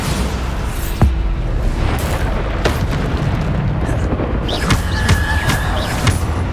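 Bombarda spell blasts in Hogwarts Legacy go off as repeated heavy booms with crackling bursts, loud and near over continuous game noise.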